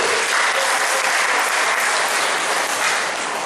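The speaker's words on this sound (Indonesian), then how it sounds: "Tepuk tangan yang meriah untuk Pak Titus." Steady audience applause fills a hall at a credit union day celebration, dense and continuous for the whole stretch with no voices on top.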